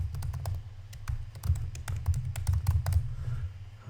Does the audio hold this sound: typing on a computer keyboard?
yes